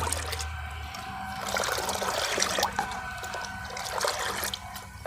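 Chemical fertilizer and oil cake being beaten together in water by hand, giving steady sloshing, splashing and trickling with occasional sharper knocks, close and continuous.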